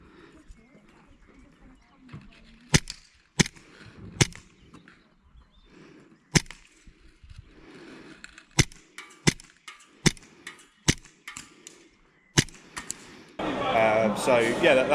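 ASG CZ Shadow 2 airsoft pistol slide racked by hand, a series of sharp metallic clacks spaced irregularly over quiet background, with a burst of louder noise at the end.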